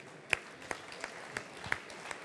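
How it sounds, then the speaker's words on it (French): Faint applause from an audience at an inauguration event, sparse irregular claps heard at a distance against quiet background noise. "c'est eux qu'il faut applaudir"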